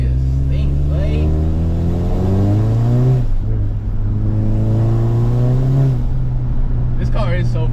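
Manual transmission car engine accelerating through the gears on a daily commute, revs climbing and dropping in repeated pulls, loud from inside the cabin.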